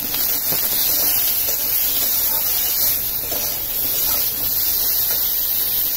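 Eggplant slices fry in a little oil seasoned with salt and turmeric, giving a steady, even hiss that stays constant and close with no talking.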